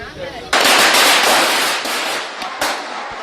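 Diwali firecrackers go off in a loud, close, dense chain of crackling bangs, a sustained rattling burst that pauses briefly and resumes with further rapid pops.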